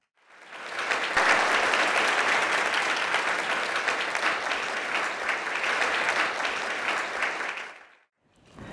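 An audience at a scientific award ceremony applauds an award recipient, a sustained, loud wave of clapping that swells quickly, holds for several seconds, then fades to silence.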